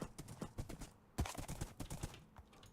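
Hooves clip-clop in quick, uneven clusters as a horse moves along in a video game, fairly faint and close, with no speech over the rhythmic steps.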